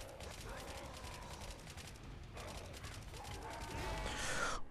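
Gunfire from shooting enemies in the Blood Harvest video game, a continuous rapid rattle of shots that swells louder toward the end, with faint voice sounds underneath.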